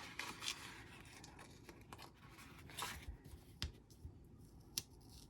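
Scissors snip through washi tape on a paper planner page, giving a few quiet, crisp cuts and faint rustles of tape and paper, close up with no talking.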